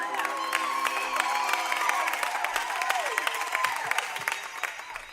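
A dense crowd at a celebratory gathering ululates, whoops and cheers continuously, high trilling voices layered over sustained applause-like roar, loud and close throughout.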